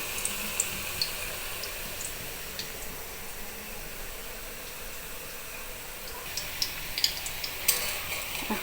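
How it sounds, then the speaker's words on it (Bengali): Singara pitha fry in hot oil in a kadai, giving a steady, faint sizzle with a few small crackles and pops that grow busier toward the end. "এই যে পিঠাগুলো ভাজা হচ্ছে।"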